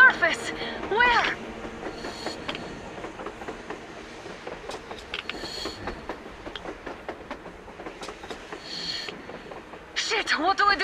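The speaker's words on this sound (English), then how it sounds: "A train! A damn train on the surface!" A train running on the surface in Metro Exodus, its rolling wheels giving a continuous rumble and clatter beneath urgent speaking voices, with louder bursts near the start and end.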